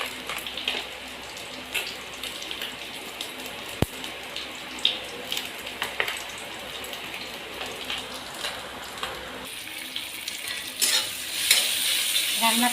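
Fish frying in a pan with a steady, close sizzle, broken by scattered clicks and utensil knocks, the hiss swelling louder near the end.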